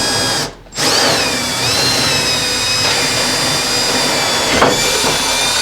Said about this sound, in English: We're just gonna drill it through.